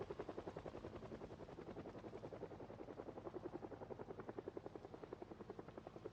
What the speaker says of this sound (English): So the last helicopter, I believe, was 5 passes it did on us.